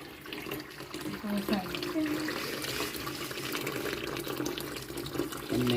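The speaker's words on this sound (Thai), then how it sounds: "ตอนนี้เราก็ล้างปูแล้วต่อไปแล้วก็จะล้าง กุ้ง" Tap water runs steadily into a sink while crabs are washed, a continuous splashing and rushing close by, with people talking over it.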